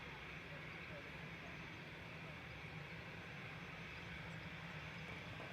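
An EasyJet airliner at Manchester Airport makes a steady, distant jet rumble that fills the whole stretch, with faint voices talking over it.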